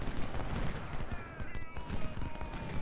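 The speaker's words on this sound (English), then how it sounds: "We've got our artillery up here doing their thing." Battle sounds from Ultimate General: Civil War, with artillery and rifle fire crackling in a dense, continuous mid-distance volley, as in a Civil War engagement at Corinth, under a low rumbling background.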